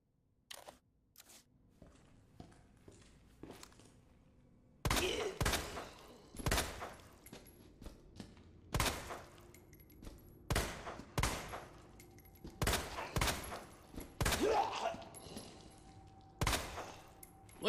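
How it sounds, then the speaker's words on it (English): Gunfire from the Resident Evil 2 remake, Leon's scenario: a string of sharp, loud single shots fired one after another at irregular intervals, each with a brief echoing tail, and no talking. "Look how many shots that one took."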